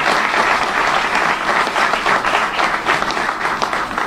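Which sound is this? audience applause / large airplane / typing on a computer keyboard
audience applause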